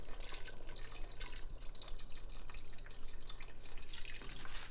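Chicken broth is poured into a pot of Guinness beef stew, a steady close trickle and splatter of liquid with a low background hum throughout.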